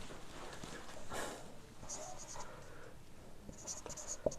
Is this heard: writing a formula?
yes